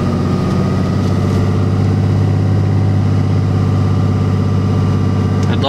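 A truck engine hauls a 42-foot fifth-wheel trailer slowly up a winding hill, giving a steady, loud, low drone that holds evenly throughout with no talk.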